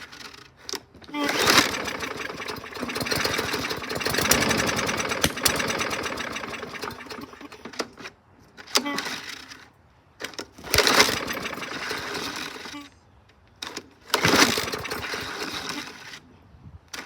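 A junk walk-behind lawn mower engine cranks and catches, running in loud rough bursts of several seconds separated by short pauses, with repeated restarts and sputtering, close to the microphone.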